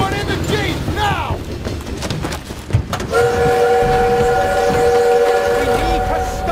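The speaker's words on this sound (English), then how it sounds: "We need to stop that train!" A steam train rolls along and sounds a long, sustained steam whistle in a Call of Duty WWII battle scene, loud and close, with shouted voices and gunfire-like bursts before the whistle takes over.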